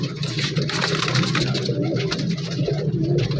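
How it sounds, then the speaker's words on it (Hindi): High-flying pigeons coo softly and continuously at a busy bird market, with a steady hum of background activity and no talk. "उड़ने वाले कबूतर हैं, बहुत अच्छे कबूतर हैं।"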